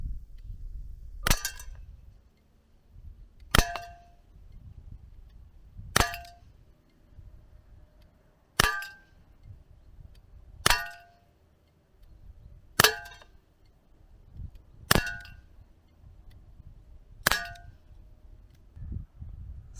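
Gamo PT-80 Desert Attack air pistol firing .177 lead pellets at a target 10 meters away on a range: nine sharp metallic clangs spaced about two seconds apart, each with a brief ringing tail, over quiet background.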